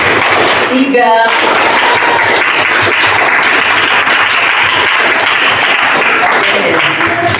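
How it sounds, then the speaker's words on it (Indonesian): Loud, steady applause from a full Indonesian classroom after a teacher's lesson, dense clapping filling the whole stretch with a brief voice at the start. "untuk memberi aplaus kepada kita semua atas pembelajaran yang sangat luar biasa"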